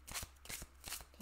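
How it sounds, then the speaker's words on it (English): A deck of 100 Ink Animals playing cards is riffled close up, giving soft rapid bursts of fluttering card noise in a quick, quiet rhythm with no speech. "Maybe I'll just shuffle, give it a shuffle."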